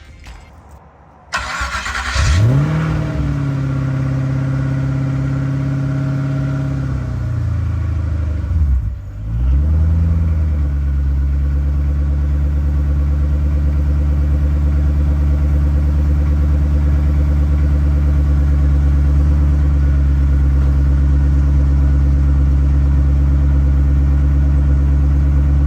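Cold start of a supercharged Coyote V8 swapped into an SN95 Mustang, recorded from underneath the car: the starter cranks, the engine catches and flares loudly, the revs dip briefly, then a steady, heavy idle settles in and holds.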